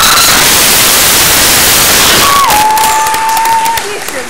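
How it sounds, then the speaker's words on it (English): Loud, dense applause and cheering from a school audience at a Skate 4 Cancer event, broad hissy clapping filling the space, with a brief tonal whistle or feedback line appearing near the end as the noise eases slightly. "applause"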